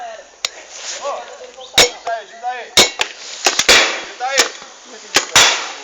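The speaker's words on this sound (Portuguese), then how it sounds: "Dá um tiro pra testar." Several sharp video game gunshots crack at irregular intervals, loud and close, with short voiced sounds in between.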